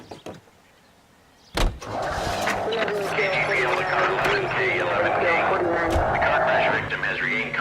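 A car in the video game L.A. Noire starts with a sharp burst after near silence, then its engine runs loudly and steadily with other game sounds and voices over it.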